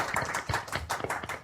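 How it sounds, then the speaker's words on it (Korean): Audience clapping to welcome a guest onto the stage at a 2019 evening panel discussion event, a dense patter of hand claps lasting briefly with no voices. "박수로 환영해 주세요"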